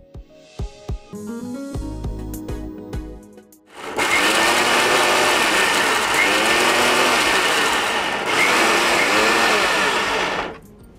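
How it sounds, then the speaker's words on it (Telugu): Mixer grinder grinding masala for chilakaddumpa masala rice in a kitchen, starting after a few clicks and running as a loud, steady, close whir for about seven seconds with a brief dip midway, no talking. "ఇవి మిక్సీలో వేసుకొని వద్దాం"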